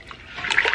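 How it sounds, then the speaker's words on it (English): Water splashes into a pot of ham and bean soup, a short sloshing pour that grows louder toward the end. "I'll probably have to add some more water to this."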